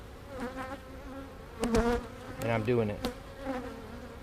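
Honey bees buzz around a beehive being split, a close, wavering drone that swells and fades in repeated surges, with someone talking briefly over it.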